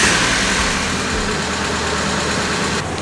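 An auction Mazda Miata with a previously broken timing belt runs steadily at idle, a loud, continuous engine drone close by with no speech.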